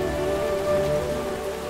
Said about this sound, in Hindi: ये मुनिया टोला का बारिश है, रुकेगा नहीं